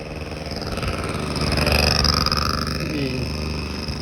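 A scooter engine drones and revs close by, swelling in loudness toward the middle and then easing off, with a throaty, rumbling tone and no talking.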